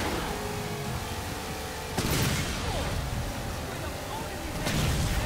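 Gunfire and explosions from the Halo 4 video game, dense bursts of shooting and booms over a constant roar of battle noise.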